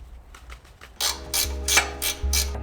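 A breaker bar with a cheater pipe works a tight bolt loose on a Mazda Miata, giving a few quick close metallic clicks and creaks with low thuds as the bolt gives.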